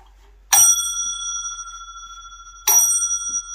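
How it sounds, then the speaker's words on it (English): An old small bell rung twice, each a bright metallic ding with long ringing overtones that fade slowly, loud and close with quiet between strikes. "Ring the bell."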